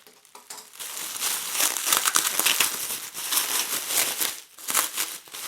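Bubble wrap being pulled and unwound from the lid of a Denby Monsoon Cosmic stoneware butter dish, giving continuous close crinkling and crackling plastic rustles that rise and fall over several seconds.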